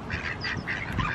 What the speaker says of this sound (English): look, the duckies